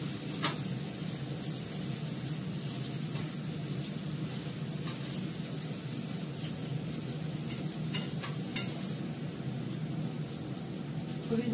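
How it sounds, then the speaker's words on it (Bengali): Diced potatoes fry in a pan with a soft, even sizzle throughout, broken by a few faint clicks and scrapes from stirring, with no speech. "ভালো করে একটু ফ্রাই করে নেব, তাহলে সেদ্ধ হয়ে যাবে।"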